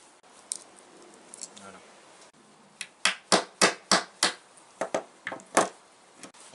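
A bent Allen key knocks an old primer cap out of its casing with a series of sharp metallic taps, about a dozen close, crisp strikes in an uneven rhythm after a quiet start.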